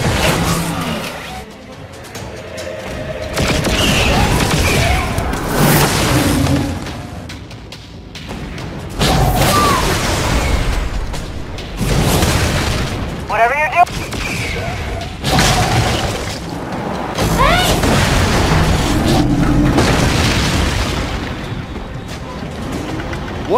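Gunfire and explosions from Tales from the Borderlands burst in repeated heavy hits and crashes, loud and close, with voices talking between and over the blasts.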